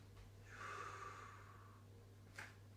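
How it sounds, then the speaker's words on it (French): A single long, close inhale through the nose during a home Pilates exercise swells and fades, followed a moment later by a brief second sharp breath. "j'inspire"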